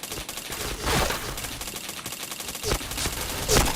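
Rapid bursts of gunfire from a video game shooter rattle in quick repeated volleys with sharp cracks, loud and close, with no talk heard.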